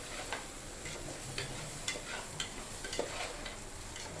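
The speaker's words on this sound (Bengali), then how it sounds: "খুব ভালোভাবে নেড়ে নেড়ে ভেজে নিতে হবে।" Washed pulao rice being stirred and fried in a pressure cooker, a constant close hiss of frying broken by regular scraping strokes of a spoon, moving in an even rhythm and no voices.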